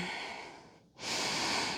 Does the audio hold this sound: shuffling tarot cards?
no